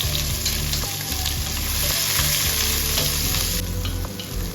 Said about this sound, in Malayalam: ഞാനൊരു രണ്ട് സവാള സ്ലൈസ് ചെയ്ത് ഇതിലേക്കിട്ട് വഴറ്റിയെടുക്കുകയാണ്